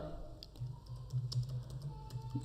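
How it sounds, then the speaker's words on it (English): Soft, quick keystrokes tap on a computer keyboard while text is entered into an Excel spreadsheet, a light irregular patter of close clicks over a faint background hum. "So here we will type"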